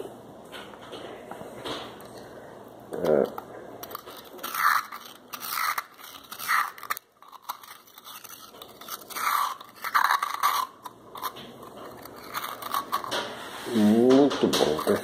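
Someone bites and crunches into a whole frozen coconut with water inside, giving a series of close, irregular crisp cracks and crunches with short pauses between bites.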